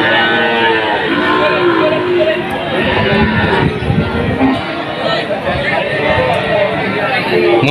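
A seven-month-old young bull calf lows at a busy cattle market in Tuban, Java, its moos rising over steady crowd chatter and someone talking nearby.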